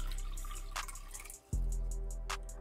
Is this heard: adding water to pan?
yes